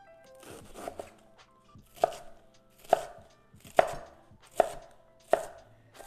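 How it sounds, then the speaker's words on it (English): A head of vegetable being chopped into small pieces with a knife on a board, about six sharp, evenly spaced chops, close and clear, with no talking. "And we're going to cut this in pretty small pieces. And we're going to chop it up."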